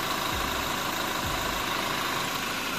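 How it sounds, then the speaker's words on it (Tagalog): A Toyota Innova XE, a 2025 model, idles steadily with a low, even engine hum, joined by a couple of deeper thumps, heard close and alone. "tumutunog yung makina niya ngayon"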